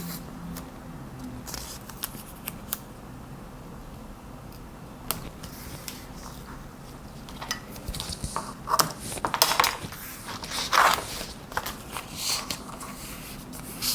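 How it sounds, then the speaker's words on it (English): Scissors snip away excess paper from gel prints in a series of sharp, irregular cuts, quiet at first then busier and louder, with paper rustling between the clips of the blades. "you just take your scissors and trim off any excess"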